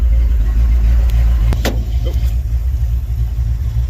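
Pickup truck engine, a Dodge Sweptline with a freshly repaired Holley carburetor, idling at around 800 to 900 RPM: a loud, close, steady low rumble that holds even, with a few faint clicks over it.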